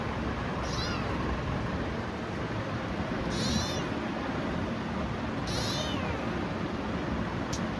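A kitten sitting in a basket meows three times, high-pitched cries spaced a couple of seconds apart over a steady, loud background hiss.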